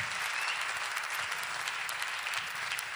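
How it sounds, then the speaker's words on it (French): Dense applause from an audience, a steady wash of many hands clapping at moderate loudness with no voices over it. "j'aimerais qu'on puisse leur donner une main d'applaudissement"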